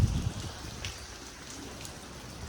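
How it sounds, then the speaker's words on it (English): Rain falls outdoors all day as a steady, soft hiss with light droplet patter. A brief louder rustle comes at the very start, and no one speaks. "It's raining all day."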